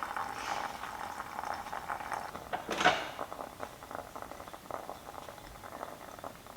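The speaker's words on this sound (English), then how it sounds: "And then I'll pour in more, and I usually just go right around the edge to kind of get all the coffee that gets stuck." Hot water poured in a circle around the edge of coffee grounds in a pour-over brewer gives a soft, steady trickle, with a brief louder clunk near the middle and no talking.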